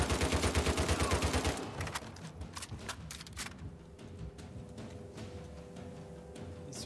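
Rapid automatic gunfire in the video game Uncharted 4 hammers in a fast, even burst, then gives way to scattered lighter shots and impacts.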